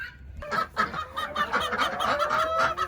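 Several chickens cluck and chatter close by, a busy mix of short calls and a few longer honking notes overlapping.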